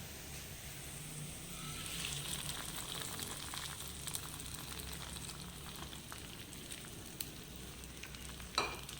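A hot tempering poured into a Kerala-style pumpkin and bean curry gives a soft, continuous crackling sizzle, fairly quiet, ending with a sharp clink of a utensil.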